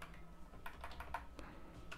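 Keystrokes clatter on a computer keyboard while Java code is entered, a quiet, irregular run of soft clicks and taps with a faint background hum.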